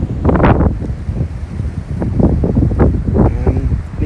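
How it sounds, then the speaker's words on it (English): Loud gusty wind on an overcast day at a house building site in Barbados buffets the microphone, rumbling continuously with no voices. "Windy day today. Overcast and windy"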